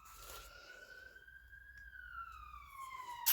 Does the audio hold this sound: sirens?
yes